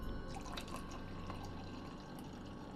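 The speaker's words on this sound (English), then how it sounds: "the sound of the pouring continues off screen" Wine pours steadily into a glass, a continuous liquid splash and trickle with faint dripping, fairly close and quiet, with no voices.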